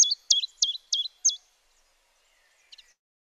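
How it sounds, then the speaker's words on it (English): Blackbird song played back as a recording: five quick, clear whistled phrases in a row, then a short faint chirp after a pause. "I'll just give you another play of the blackbird"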